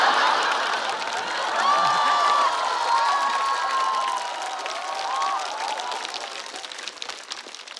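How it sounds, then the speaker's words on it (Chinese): A stand-up comedy audience laughs, cheers and applauds together, a loud, sustained wash of crowd noise from a large room that stays steady for several seconds before easing slightly. "你们笑了，你们鼓掌了"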